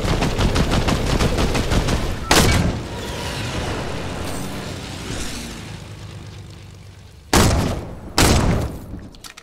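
Gunfire in Fortnite Battle Royale: a rapid stream of automatic shots fading out, then several sharp, loud single blasts punctuating the quieter stretches; no voices.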